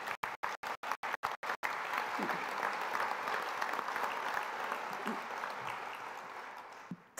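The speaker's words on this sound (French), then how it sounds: "Je vous demande de les applaudir." Applause breaks out from the audience at a firefighters' federation general assembly in a large theatre. A few sharp cuts at the start give way to sustained, dense clapping that slowly tapers off toward the end.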